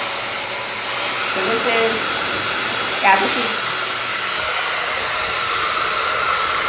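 MonoMono Dreamworld hair dryer blowing a steady broadband airflow on its cool setting, loud and continuous throughout, with a brief voice speaking over it near the start.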